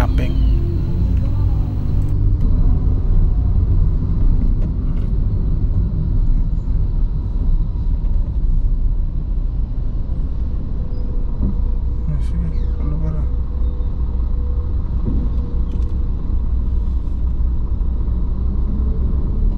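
Car rolling through heavy traffic, a steady low rumble of engine and road noise filling the whole stretch with passing vehicle sounds mixed in.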